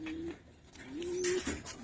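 Pigeons of the Giribaz breed cooing quietly in a loft, soft drawn-out coos repeating a few times among faint rustling and background noise.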